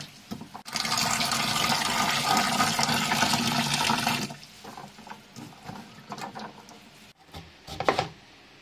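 Figs and cashew nuts are rinsed under a strong stream of running tap water that gushes steadily for several seconds, then gives way to quieter splashing and handling sounds.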